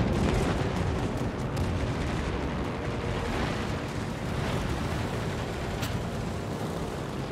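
Naval gunfire from the F.D. Roosevelt in World of Warships rumbles as a steady, dense barrage of booming blasts, loud and continuous with no pauses and no voices.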